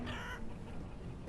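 Chickens clucking in the village-building game Banished, a brief burst of fowl calls at low level that fades after the first moment into a quiet ambient bed.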